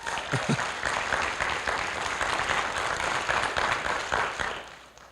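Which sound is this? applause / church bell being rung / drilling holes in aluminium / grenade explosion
applause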